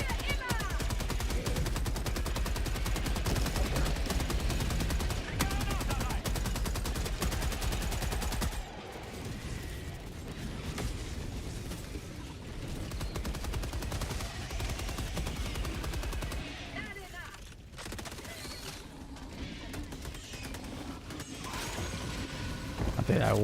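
Teammates fire airburst rounds in a video game: a dense, sustained rattle of gunfire and mechanical clatter runs through the first stretch, then continues more sparsely under the game's ambient noise and distant explosions.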